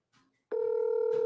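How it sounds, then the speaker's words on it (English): A telephone emits a short soft tone, then a steady loud dial-type tone that holds continuously for the rest of the moment, with no talking. "That's the phone. I'm actually dialing them."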